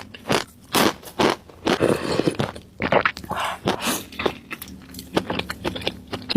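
Crispy sweet-spicy mie gulung rolled noodle snack is bitten and crunched up close, sharp crackling bites in quick succession followed by rougher chewing crunches, loud and dry with no talking.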